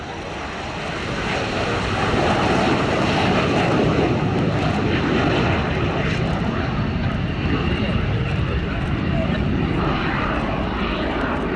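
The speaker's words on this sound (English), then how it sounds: "See the swept wings on this aircraft as it goes through its paces. This is the Mikoyan Gurevich MiG-15 UTI." A Mikoyan-Gurevich MiG-15 UTI swept-wing jet trainer performs a flying display at Yeovilton Air Day, giving a loud, steady engine roar that swells after the first second and holds across the whole pass, with speech present over it.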